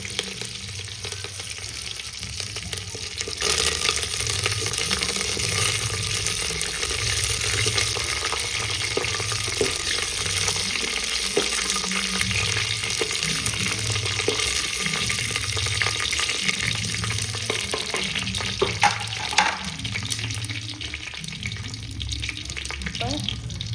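Steady sizzling and crackling of mustard seeds, curry leaves and dried chillies frying in hot oil for rasam, close and continuous, with faint kitchen clatter underneath.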